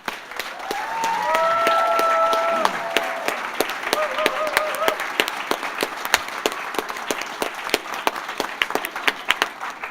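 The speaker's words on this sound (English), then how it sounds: "Let's give our inductees a round of applause" Applause at a Phi Theta Kappa honor society spring induction ceremony, a dense crowd of clapping hands sustained for about ten seconds, with a few voices and tonal sounds rising over it early on.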